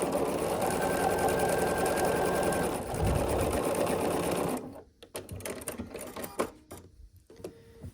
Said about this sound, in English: Then we're gonna sew along this diagonal.